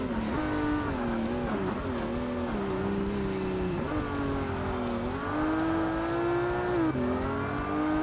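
A souped-up race car in the Forza Motorsport racing game drives hard, its engine droning and rising in pitch through repeated gear shifts for the whole stretch, loud and steady with no talking over it.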